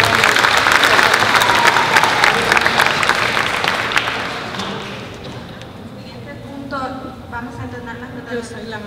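A crowd at a municipal philharmonic presentation claps loudly in a dense burst that tapers off after about five seconds, leaving scattered claps and murmuring voices.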